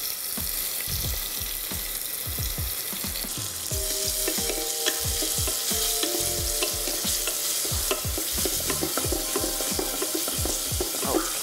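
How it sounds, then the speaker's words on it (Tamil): Onion and tomato sauté in a hot pan for a Punjabi sabji and keerai masala, giving a steady sizzle. Repeated scraping stir strokes run through it in a quick irregular rhythm, close and fairly loud, with no talking. "இந்த வெங்காயம், தக்காளி போட்டு நல்லா வதங்கணும்"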